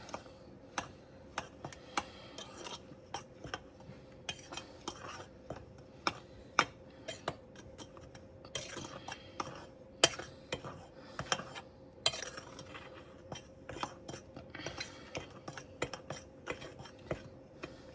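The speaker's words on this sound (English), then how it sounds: "1 cup of sugar. We'll give this a little stir." Spoon stirring sugar into brownie batter in a bowl, a long run of quick, light, irregular clinks and scrapes, steady and close with no talk.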